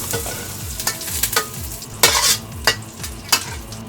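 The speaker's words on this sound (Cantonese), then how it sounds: "我落啲牛油啦" Butter melts and sizzles in a hot wok while a spatula scrapes rhythmically, regular stirring strokes over a low frying hiss, close and fairly loud with no talking.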